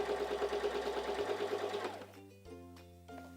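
A Singer 3337 sewing machine running a straight stitch, its rapid rhythmic motor whir loud and close for about two seconds before winding down and stopping, followed by faint clicks and handling sounds.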